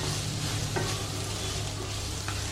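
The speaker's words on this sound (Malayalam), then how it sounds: "ഇളക്കി ഇട്ട് കൊടുക്കുക." Food fries in a pan with a steady sizzle and a low hum underneath, while a couple of quick scraping clicks mark stirring.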